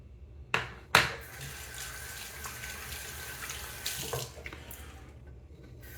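A tap runs steadily into a bathroom sink during shaving prep, opening with a couple of sharp knocks before the soft, even stream continues alone.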